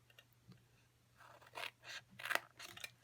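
Scissors snipping through paper to trim tabs off a tissue box, a few close, crisp cuts in quick succession with a soft rustle between them, no voices.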